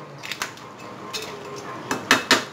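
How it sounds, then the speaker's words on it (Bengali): A metal spoon scrapes and clinks against a pan while crab masala is stirred, a few light taps followed by louder, sharp scraping knocks near the end, close with no talking. "এই একবার নেড়ে দেব।"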